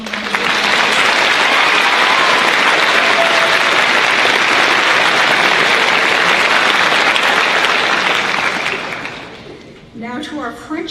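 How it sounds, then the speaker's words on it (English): Audience applause for senior award recipients at a school recognition ceremony, loud sustained clapping filling the hall for about nine seconds, then fading out as a voice begins speaking. "Give them a round of applause"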